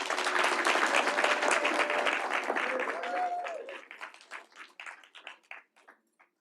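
A graduation audience claps loudly and steadily while a voice speaks over it, then the applause breaks up into scattered claps and dies away.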